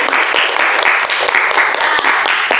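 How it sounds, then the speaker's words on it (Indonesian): Steady, close classroom applause from a group of students during a Hindu religion lesson, dense clapping filling the whole moment without speech. "Dan tepuk tangan buat Angreni."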